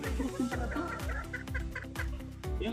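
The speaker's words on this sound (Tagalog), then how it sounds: "Nangangakak pa yung isa." A hen on a gamefowl breeding farm cackles in a rapid, repeated rhythm of loud, close clucks, with other fowl calling around her.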